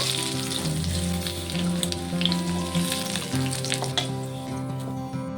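Steady frying of raw plantain in oil with a dense crackling sizzle, continuous and fairly close, with a low hum underneath.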